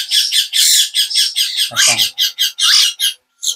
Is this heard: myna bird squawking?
yes